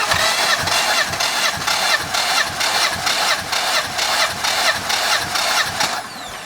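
A 2019 Mustang GT engine cranks over steadily during a compression test, its starter churning in an even, rapid rhythm of roughly a dozen compression strokes before stopping, loud and close with no talking.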